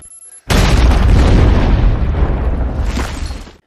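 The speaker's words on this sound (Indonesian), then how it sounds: "tiba-tiba terjadi ledakan pada makam Vesper" A sudden heavy explosion at a grave in a James Bond film bursts in after a brief quiet, a loud deep boom with rumbling debris that holds for a few seconds before tailing off, no voices.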